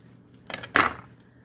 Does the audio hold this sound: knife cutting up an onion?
yes